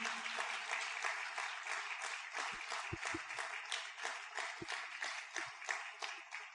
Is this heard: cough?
no